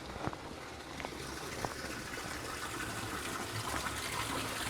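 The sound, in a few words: water flowing from a fountain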